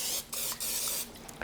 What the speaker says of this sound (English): So I'm just going to spray my loaf pan